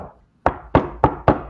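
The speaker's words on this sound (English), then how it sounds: "there's someone at the door." Four sharp knocks on a door, loud and close, the first after a short pause and the rest in a steady, evenly spaced rhythm, with no talk over them.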